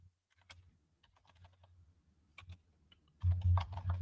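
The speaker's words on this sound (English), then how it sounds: "Hear me type. I had to complain about that. My keys are too loud." Loud computer keyboard typing: scattered clicking keystrokes, close and fairly faint, then a denser, louder run of key presses at the end.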